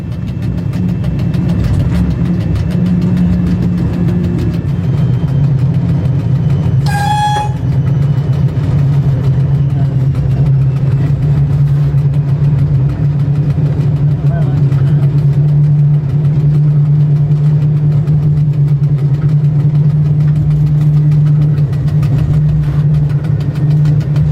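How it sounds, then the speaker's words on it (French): Train 21, Tanger–Casablanca, hauled by a DF diesel locomotive: a steady low diesel engine drone throbs throughout, loud and continuous, with a brief whistle-like tone partway through. "C'est ici que nous rencontrons le train 21, Tanger-Casa, lui aussi remorqué par une DF."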